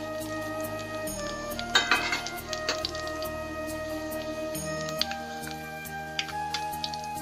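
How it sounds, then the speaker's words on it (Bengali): Bay leaves and whole cumin sizzle and crackle in hot mustard oil in a kadai, a steady frying hiss with scattered pops and a few utensil clinks, close and alone with no talk. "তেলটা গরম হয়ে গেছে, দিয়ে দেবো এই যে 4-5টা তেজপাতা আর গোটা জিরা।"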